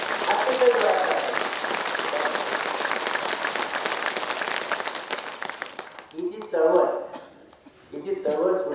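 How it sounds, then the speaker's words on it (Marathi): An audience at an eye-donation movement anniversary event in Maharashtra breaks into sustained loud applause for about six seconds, then a speaker's amplified voice takes over. "अशाच हात टाळ्या वर करून जोरात जोरात टाळायचं"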